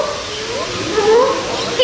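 A parrot imitates a dog at an outdoor amphitheater with brief, wavering, howl-like vocal sounds, moderately loud and close, over a soft background.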